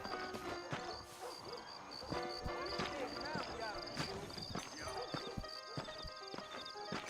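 Horse hooves in the Red Dead Redemption video game, a brisk irregular clip-clop of hoofbeats with clattering impacts, fairly close, over a low game soundscape.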